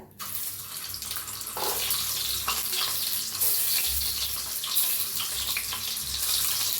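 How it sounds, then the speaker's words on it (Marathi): Scored boiled eggs drop into hot oil for a spicy village-style Maharashtrian egg curry, giving a steady, loud, close hiss and crackle throughout with no talking. "तेल मी चांगलं तापलंय आता हे अंडी सोडून घेऊया तेलात"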